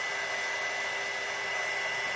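An embossing heat tool blows hot air with a steady, even whir and hiss much like a hair dryer, held close and running without pause, with no voices over it.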